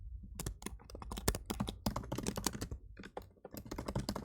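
Fast, dense clatter of keys on a computer keyboard as someone codes, clicking close up in rapid continuous bursts with only a brief pause partway through.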